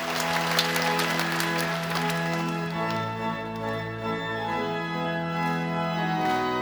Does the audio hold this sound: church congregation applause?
yes